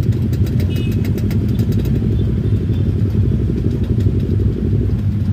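Dense traffic of motorcycles on a busy eastbound road near Pangandaran during the holiday return flow, with many engines droning and idling together at a steady, loud level and faint clatter throughout.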